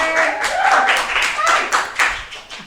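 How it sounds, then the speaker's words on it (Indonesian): Clapping for a special guest on a school awards podcast, a lively cluster of hands in uneven bursts, fairly close, with faint voices underneath. "Tepuk tangannya dulu dong."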